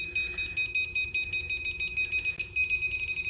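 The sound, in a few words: cable tracer beeping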